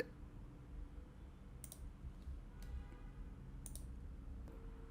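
Computer mouse clicks, a handful of crisp, faint, isolated clicks spaced about a second apart over a low, quiet room hum, with no voices.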